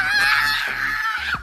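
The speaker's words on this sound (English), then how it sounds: "She genuinely looks horrified before falling and screaming her brains out." A woman screams in terror in the Japanese horror film Noroi: The Curse, a loud sustained high-pitched shriek that wavers and breaks near the end, heard alone without talk.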